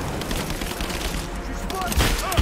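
Rapid bursts of gunfire from the Rise of the Tomb Raider video game crackle continuously. Heavier booms land near the end, and shouting voices are mixed in.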